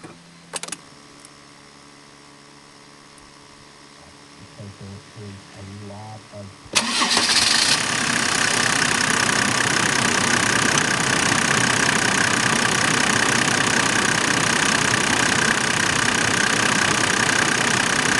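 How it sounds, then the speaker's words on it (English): A Mercedes-Benz OM606 turbodiesel engine cranks briefly after a quiet, faint start, then catches and settles into a loud, steady idle that holds unbroken to the end. "hear how nicely it runs, how quiet it is."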